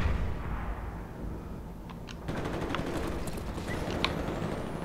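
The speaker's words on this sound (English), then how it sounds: "Friendly mortars inbound." Friendly mortar strikes in Call of Duty Black Ops land as dull booms with rumbling blasts and scattered gunfire in the background. The battle noise swells partway through and continues loud to the end.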